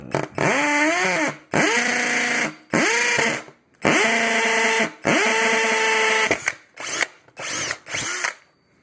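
A power drill whirs in repeated bursts, spinning up, holding, and stopping, with short pauses between runs, drilling a hole under a kitchen sink; loud and close.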